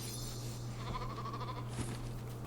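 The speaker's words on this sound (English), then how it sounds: "That is the first time I've seen a sheep inside the base in a long time." Sheep bleating inside a base in Lego Fortnite, a faint in-game animal call over a steady hum and soft background game ambience, with brief bleat-like bursts near the middle and end.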